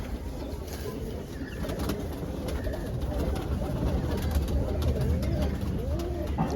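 Madrasi pigeons in a loft coo in soft, repeated rolling calls over a steady background hum, moderately close and continuing through the clip.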